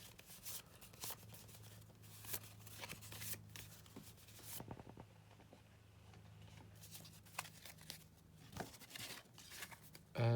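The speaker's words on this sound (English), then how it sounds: "put these back, shuffle" Cards from the Sand Requiem tabletop game being shuffled by hand, a series of quick riffling and sliding bursts, close and crisp, with a brief pause midway before the shuffling resumes.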